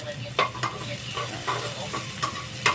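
Onion and ginger sauté in a hot pan for ginataang langka, with a steady sizzle and a few light scrapes and clinks from the stirring utensil.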